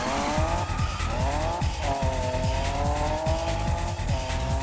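Tires squeal and skid repeatedly as a car drifts on grip tires in the Need for Speed 2015 racing game, the engine droning loudly and steadily underneath with rising and falling pitch.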